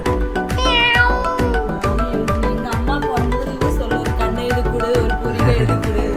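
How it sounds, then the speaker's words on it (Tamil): A cat meows near the start, partly masked by loud, rhythmic background music that runs through the whole stretch. "பாக்குறான் பாருங்க, பின்னாடி இருக்கான் பூனை."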